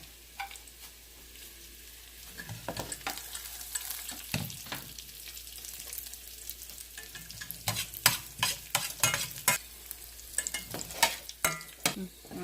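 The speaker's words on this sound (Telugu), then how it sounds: "ఇప్పుడు ఇవి వెల్లుల్లిపాయ జీలకర్ర వేగిపోయింది కదా" Garlic and a little cumin frying in about two teaspoons of oil in a pan, a soft steady sizzle with a spoon stirring and scraping in sharper clicks, close and fairly quiet, no talking.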